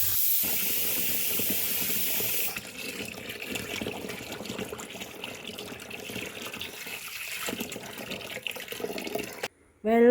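Tap water runs steadily while wheat grains are rinsed clean in a home kitchen, a continuous hiss that shifts partway through, with faint background voices.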